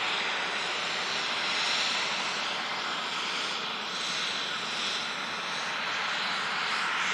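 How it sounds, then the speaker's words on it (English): A Norse Boeing 787 Dreamliner jet taxiing at Manchester Airport in thick fog, a steady, loud broadband engine roar holding evenly for several seconds with no talk. "And the Norse Dreamliner now on the taxi."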